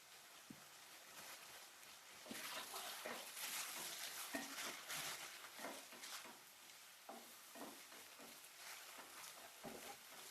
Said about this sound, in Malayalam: അങ്ങനെ കുറച്ച് നേരം മിക്സ് ചെയ്യുക.